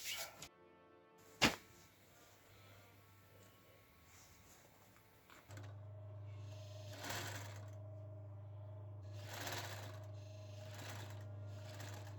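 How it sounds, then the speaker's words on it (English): A sewing machine stitching facing onto a garment upcycled from a tablecloth, starting with a few soft clicks and a sharp knock, then a steady close hum of running stitches with a few brief surges in speed. "And now we sew."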